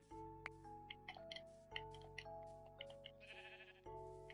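Several Minecraft sheep bleat over a steady game soundtrack, bleats coming in short bursts at irregular intervals.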